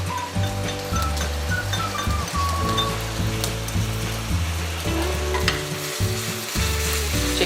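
Chicken pieces frying in a pan for chicken Manchurian, a steady loud sizzle that runs without a break, with a few brief clinks and shifts in the hiss along the way.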